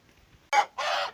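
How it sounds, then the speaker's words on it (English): A hen's loud, harsh egg-laying cackle in two bursts after a quiet start, with a third beginning at the end; close by and alone. "I hear the egg song."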